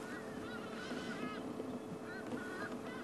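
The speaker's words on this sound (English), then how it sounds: "Hyenas calling. Hyenas calling off in the distance towards the den." Hyenas calling far off near a den on a Sabi Sand safari at sunset, faint rising whoops repeating over a windy, humming background.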